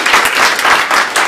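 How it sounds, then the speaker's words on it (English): Audience applause at a community discussion on healthcare, a dense burst of many hands clapping close and loud, with no voices over it. "give him a round of applause"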